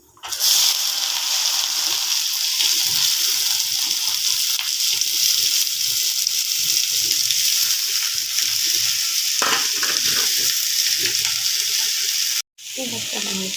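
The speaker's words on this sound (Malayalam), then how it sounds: "ഇങ്ങനെ വേവിച്ച ഉപ്പേരിയുടെ കൂട്ട് പച്ചക്കറി ഇട്ട് കൊടുക്കുക." Vegetables tipped into a cooked upperi mixture in a hot pan sizzle loudly, a steady close frying hiss stirred throughout, with a brief scrape near the end.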